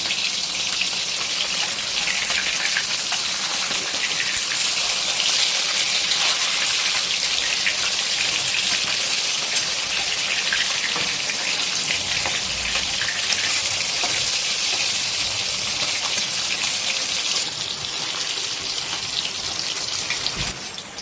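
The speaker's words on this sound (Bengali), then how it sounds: "এখানে মাছগুলো কিন্তু ভালো মতন ভাজা হয়ে গেছে" Katla fish pieces fry in hot oil, a loud, dense, unbroken sizzle that holds steady for about twenty seconds before easing slightly at the end.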